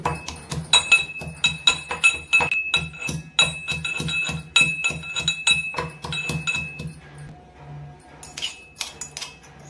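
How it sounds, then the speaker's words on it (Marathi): Ginger and garlic are crushed in a mortar and pestle with a steady run of sharp pounding strikes and metallic clinks, fairly close and loud, slowing and thinning out toward the end. "खलबत्त्यामध्ये आले आणि लसूण ठेचून घेते"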